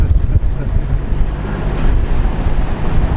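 Strong wind roars steadily against a moving car on a road trip, a loud, continuous low rumble and buffeting with no voices.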